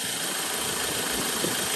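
A 2012 Land Rover Defender 90 Bowler Rally Challenge Edition with a 2.2 TDCi diesel engine idles under an open bonnet, a steady, close, loud rumble with even mechanical clatter and no talking.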